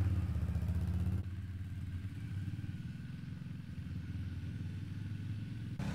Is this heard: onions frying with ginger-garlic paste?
no